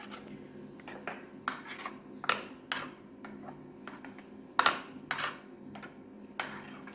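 Salted bitter gourd pieces for pachadi being stirred in a bowl, producing irregular soft clicks and scrapes of a utensil against the bowl, close and quiet with no talking.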